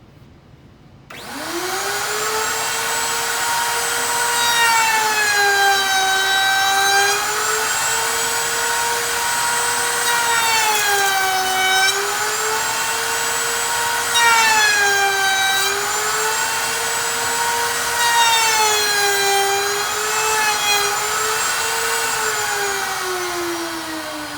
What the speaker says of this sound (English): I'm going to go ahead and demonstrate routing a profile around this board